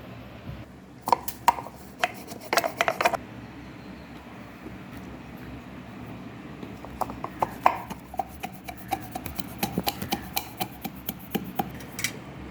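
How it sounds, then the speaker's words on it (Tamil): Irregular clusters of sharp thuds from pounding spices and garlic in a mortar, coming in quick bursts with short pauses between them. "இதை வாங்க இடிச்சிட்டு வந்துடலாம்"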